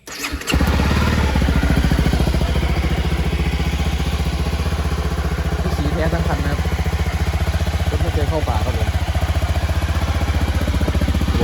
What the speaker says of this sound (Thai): ติดเครื่องครับ